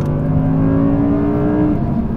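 An Audi R8 engine revs hard and steady above 4,500 RPM, its deep harmonic drone and exhaust rising slightly in pitch before easing off, loud and close.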